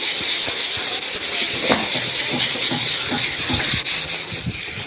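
Padauk plywood is sanded by hand with steady, close, scratchy rubbing strokes in a loud continuous rasp, broken only by brief pauses, with no voices.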